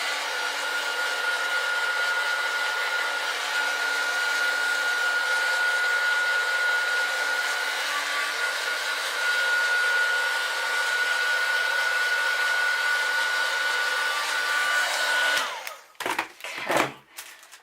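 A hair dryer blows steadily on wet paint for about fifteen seconds, a constant loud whirring hum, then cuts off abruptly followed by a few handling knocks.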